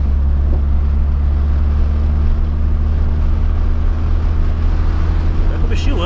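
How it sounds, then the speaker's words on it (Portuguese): A VW Gol Quadrado engine drones while the car accelerates hard in fifth gear, a loud, steady low rumble heard from inside the car, with some faint voice activity under the drone. "Chega de dar uma aceleradinha mais. Chega nada, vamos acelerar até. Tá em quinta, hein, ó."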